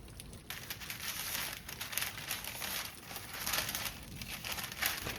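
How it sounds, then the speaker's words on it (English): Parchment paper crinkling and rustling steadily as black garlic butter is rolled into a log, a close, continuous papery crackle with no talking. "roll it into a log using parchment paper, then freeze it"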